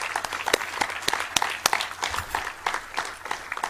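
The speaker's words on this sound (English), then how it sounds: "Give Peter a round of applause, too." Lecture audience applauds a guest with brisk, dense clapping, steady and moderately loud, with a few sharper claps standing out near the front.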